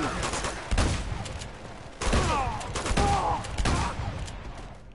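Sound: gunfire in Uncharted video game

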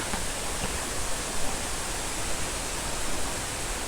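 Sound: waterfall in a forest

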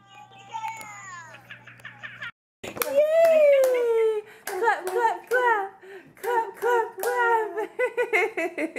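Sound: child clapping hands

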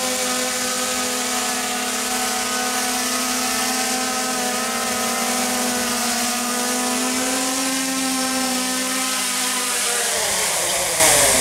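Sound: Xiaomi Mi 4K drone descending to land

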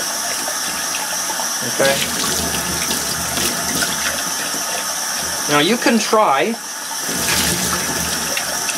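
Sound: water running from tap while washing a glass with soap

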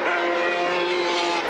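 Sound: Porsche 917 4.5-litre race car on a wet circuit

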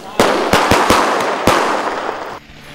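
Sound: fireworks and firecrackers going off

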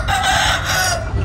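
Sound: quail chicks calling

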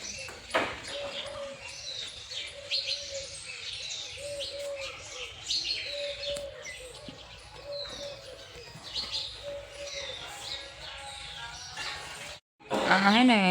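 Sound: birds chirping

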